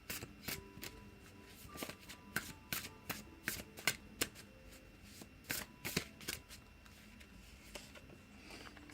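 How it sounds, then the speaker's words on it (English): A deck of love oracle cards is shuffled by hand, a quiet run of crisp slaps and riffling flutters in uneven bursts, close and soft with no talking. "I'm going to quickly pull out an advice card from the Emira's Love Oracle."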